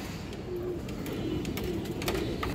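Pigeons at a pigeon market, soft low cooing repeating faintly beneath a steady background hum, with occasional light clicks and no talk.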